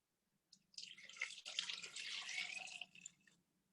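Water pours steadily into a pot of vegetable stock for about three seconds, a soft continuous splashing stream, fairly faint and heard alone.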